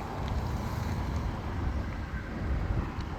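Steady wind blowing outdoors during a lightning storm in San Antonio, a continuous low rumbling gusty rush buffeting the microphone throughout, fairly loud and unbroken.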